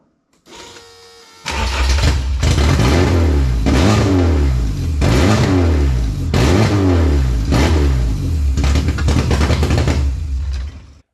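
VW Polo Coupe engine running rough without map or lambda sensors, starting up then idling loud and close with repeated surging revs that rise and fall in a steady rhythm.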